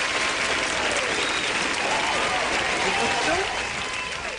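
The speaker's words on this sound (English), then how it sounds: "give him the round of applause there" A street crowd at a live outdoor broadcast gives a loud, dense round of applause that holds steady for several seconds, with voices mixed into the clapping.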